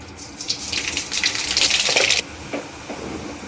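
Mustard seeds sizzle in hot oil: a bright, crackling sizzle swells for about two seconds, then cuts off abruptly, leaving a quieter spattering hiss.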